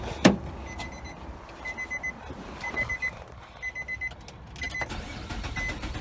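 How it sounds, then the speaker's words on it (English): A car engine cranks without starting, giving a rhythmic, pulsing churn with intermittent beeping tones. It is fairly quiet and has no speech. "It's cranking over, but you don't hear it starting or anything."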